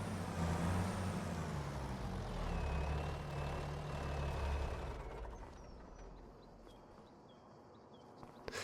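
A truck in Farming Simulator 25 rumbles with a heavy idling engine, then a brief hiss of its air brake releases as the engine drops away into quiet.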